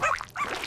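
A cartoon dog gives a short bark in a children's alphabet animation, a brief bright yelp over a light musical background, up close and fairly loud, no speech.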